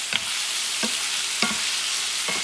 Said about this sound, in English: get that sofrito to mix well. Mix it with the meat, the vegetables.